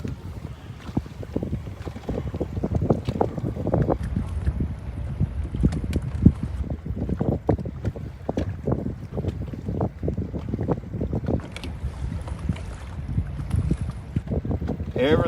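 Strong wind buffets the microphone over a lake while crappie fishing from a boat, a steady rumbling roar with gusty bursts throughout, and no clear talk.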